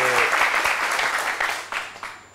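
Clapping from a television studio audience for guests on the set, many hands at once, loud at first and gradually thinning out, with a few scattered final claps near the end.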